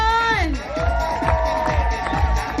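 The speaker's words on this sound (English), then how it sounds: "Keep cheering them on." A crowd cheers and shouts for pole climbers at an outdoor event, a steady dense roar of voices with whoops rising above the din.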